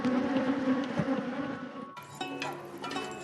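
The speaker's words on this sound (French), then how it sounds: "Ici, les abeilles sont particulièrement agressives" Aggressive honeybees swarm around hives in Benin, a dense continuous buzzing hum close by, loud and steady, with the tone shifting and brightening partway through as the swarm moves.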